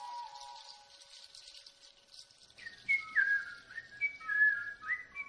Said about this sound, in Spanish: De repente oyó que alguien silbaba cerca suyo y se despertó.